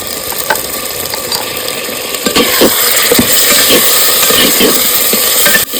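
Spices for Kashmiri aloo dum sizzle in a pan as they are stir-fried with Kashmiri chili powder and a bay leaf. Steady close frying hiss carries repeated scraping stirs that grow busier partway through.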